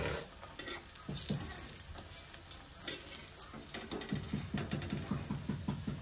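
Vade, fasting fritters, sizzle steadily as they fry in hot oil, with a continuous crackling bubble and occasional louder spatters and stirring clinks close by.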